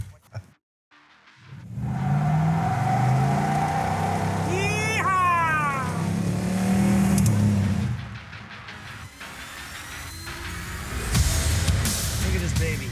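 The General Lee movie car with a 440 engine pulls away, a loud, steady rumbling drive lasting several seconds, with excited voices talking over and around it.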